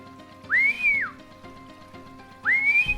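Two loud rising-and-falling whistles calling a horse, a pause between them, over a steady low rumbling background.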